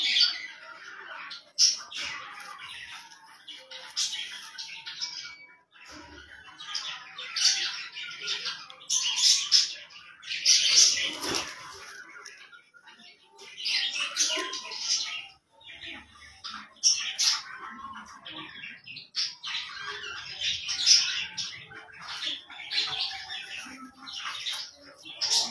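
Pigeons calling from a rooftop loft, a steady run of chirps, squawks and soft coos that repeats through the whole stretch at moderate distance, with no other sound.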